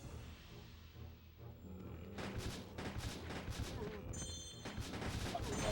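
Gunfire in the arcade shooter Resident Evil Survivor 2: Code Veronica, dense bursts of shots and booms building over a continuous game soundtrack, steady and busy throughout.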